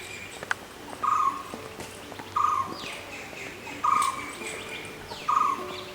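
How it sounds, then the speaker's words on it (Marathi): A coppersmith barbet repeats a short, metallic call four times at a slow, steady rhythm, moderately near, with faint background chirps and insects. "त्याच्या आवाजात एक विशिष्ट लयबद्धता असते की जी तांबट गल्लीतील ठोक्यांसारखी भासते, म्हणून तांबट."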